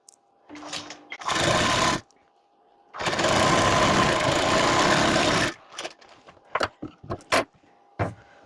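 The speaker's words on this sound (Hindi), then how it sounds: "इस पर आप कॉर्नर वाली सिलाई लगाएंगे" An electric sewing machine stitches a blouse corner seam with a steady high whirring drone in two runs, one short and one about three seconds long, followed by scattered clicks and handling noises.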